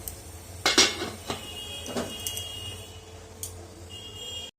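A metal lid is set back onto a cooking pot of simmering milk rasmalai, giving a few sharp clinks and clatters early on, then quieter scattered taps against a faint low bubbling background.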